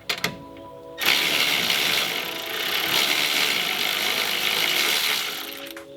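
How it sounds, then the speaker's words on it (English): A 14mm ratchet loosening an end link bolt during a spring install on a BRZ, FRS or 86 gives a few sharp clicks at first, then a continuous close mechanical whirring rasp that lasts several seconds before cutting off. "Now I'm going to loosen up the end link bolt with my 14mm ratchet and wrench."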